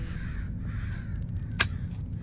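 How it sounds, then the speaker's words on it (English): A crow caws once in the horror video game Summer of 58, a short sharp call standing out over a steady low ambient drone, with no talking. "There's a bird there."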